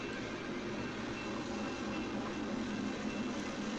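A long freight train of graffitied boxcars and steel coil cars rolls steadily past nearby, a continuous loud rumble of wheels and rail noise with faint clickety-clack and no voices.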